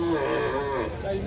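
A cow lows at a busy cattle market, one long, close moo filling the short moment over faint background murmur.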